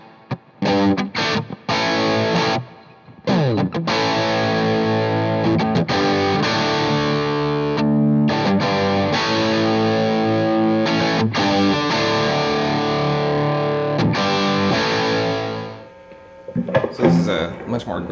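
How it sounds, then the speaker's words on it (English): Orange Micro Dark amplifier driving an electric guitar with overdrive and reverb: sustained distorted chords and riffs ring out loudly with brief stops, trailing off into a decaying reverb tail and a few final strums. "this is the onboard distortion or the overdrive or gain, or this is just from the amp"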